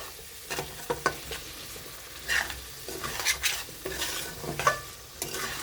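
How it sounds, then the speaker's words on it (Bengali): Spice masala with potatoes frying in a pan for green banana kofta curry, vigorous stirring with repeated scraping and clinking of a spoon over a continuous sizzle, fairly close. "দেব গুঁড়ো লঙ্কা আর দেব সামান্য চিনি এবার মশলাটাকে ভালো করে কষিয়ে নেব"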